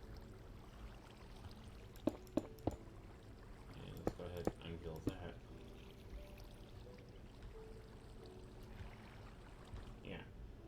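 Minecraft water flows with a soft, continuous pouring trickle under a man's speech and a few sharp block clicks.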